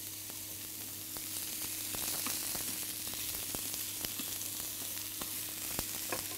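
Vegetables cooking gently in a pan for a Navarre-style ménestrade, a quiet, even sizzle with scattered small pops and crackles, no voices.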